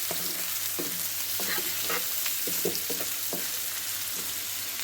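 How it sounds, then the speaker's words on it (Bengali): Onions fry in hot oil for birista with a steady, close sizzle, broken by short clinks and scrapes of stirring, and no one speaks. "এখন এই যে তেলের মধ্যে পেঁয়াজ ভেজে নিই"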